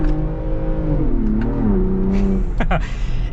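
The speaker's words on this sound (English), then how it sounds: "It sounds good, just like the F-150 Raptor, the trombone exhaust" A 2022 Ford Bronco Raptor engine revs with its trombone exhaust, a loud steady drone that rises and falls in pitch before a quick throttle blip near the end.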